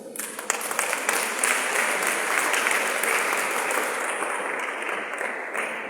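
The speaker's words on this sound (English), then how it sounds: "please give them a round of applause" A round of applause from the audience at a Society of Women Accountants of Nigeria gathering: a thick, even wash of many hands clapping at once, loud and sustained for several seconds with no voices on top.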